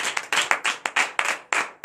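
A congregation at a morning prayer service in Benin claps in praise, about a dozen sharp, close hand claps in a steady rhythm with brief gaps between them.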